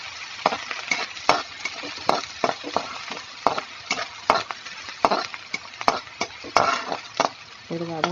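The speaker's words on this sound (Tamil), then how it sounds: "வெங்காயம் நல்லா வதங்கிடுச்சு." Onions sauté in a pan for kothu chapati, a close, steady frying hiss punctuated by frequent rhythmic spatula scrapes and clicks against the metal, with no one talking.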